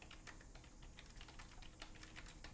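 Rapid, steady clacking of a computer keyboard being typed on quickly, faint and close with constant background hiss; no other sounds stand out.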